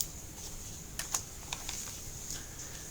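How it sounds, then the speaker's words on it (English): Typing on a computer keyboard, a quick run of soft key clicks with a few sharper taps, close and steady with no talking. "We're going to copy and paste this term, so I'll type it out."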